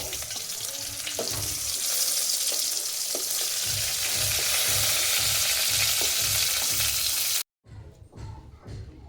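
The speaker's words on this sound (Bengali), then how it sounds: "চিংড়ি মাছ ওই তেলে আমি ভেজে নিচ্ছি।" Shrimp fry in hot oil, left over from frying pointed gourd, giving a loud, steady sizzle with low stirring scrapes, then a sudden cut to quieter, sparser crackling near the end.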